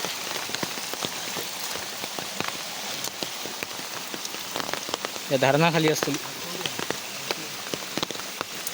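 Steady monsoon rain patters down on a surface at night, a dense continuous hiss with scattered drops, while someone speaks briefly partway through.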